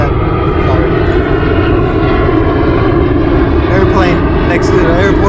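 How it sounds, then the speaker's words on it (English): An airplane passes over near an airport while out fishing on the water, a loud, steady engine drone dominating throughout with someone talking over it. "airplane next to the airport"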